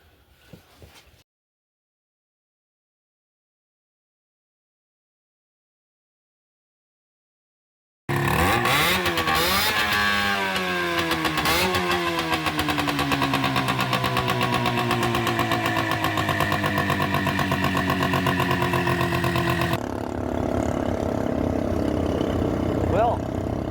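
The recovery vehicle's engine, heard after a short silence, roars close and loud, rising and falling through several revs before settling into a steady running drone.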